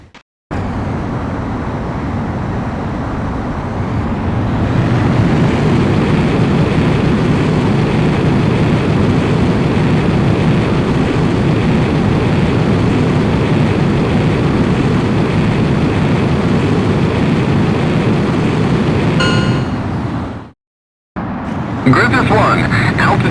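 A fighter jet's engine roars in the video game Ace Combat X, a loud sustained rumble that swells after a few seconds, holds steady for a long stretch, then drops out briefly before resuming.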